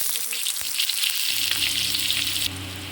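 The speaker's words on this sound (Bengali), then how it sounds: "পেঁয়াজ হালকা ভাজা হয়ে গেছে" Onions fry in hot mustard oil with a loud, steady sizzle and a few scraping stirs, ending in a quieter hiss.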